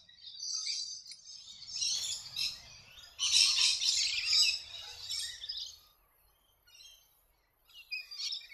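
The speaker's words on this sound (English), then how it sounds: "Rainbow lorikeets are found in forests and woodlands and gardens across the New England." Rainbow lorikeets in New England woodland or garden country give bursts of shrill, chattering calls in repeated clusters, with a louder, denser flurry midway and quieter gaps between.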